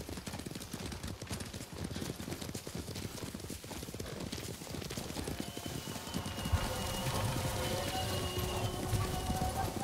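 A horse trots in the video game Ghost of Tsushima, its hooves clip-clopping in a fast, steady rhythm. The close hoofbeats sit over a soft wash of rain, and no one speaks.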